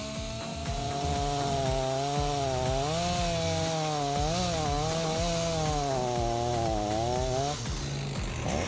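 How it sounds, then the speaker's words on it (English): A chainsaw with a 24-inch blade runs loud and close, its pitch rising and falling as the blade cuts through cedar trees, continuous for several seconds. "the chainsaw takes down cedar trees with ease"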